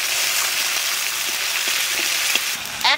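Ginger paste and green chili paste hit hot oil, already seasoned with cumin, dried chili, bay leaf and asafoetida, giving a steady close sizzle with a brief sharper crackle near the end.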